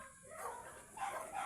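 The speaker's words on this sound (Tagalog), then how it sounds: "Yan yung aso ko guys." A pet dog on a walk gives a couple of faint, short barks or yips, quiet and somewhat distant, with no clear speech.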